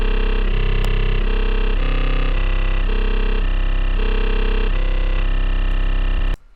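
Distorted 808 bass from the Serum synth, its wavetable position shifting so the buzzy tone changes color in a series of steady held notes before cutting off, loud and alone.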